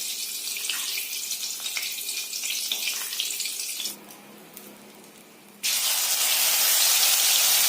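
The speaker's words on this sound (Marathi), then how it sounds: "आपला पॅन गरम झालेला आहे. त्यामध्ये मी तूप घालून घेत आहे." Ghee hits a hot pan for sabudana khichdi, giving a loud, bright, steady sizzling hiss close by. It drops to a quieter simmer for a couple of seconds, then surges back louder.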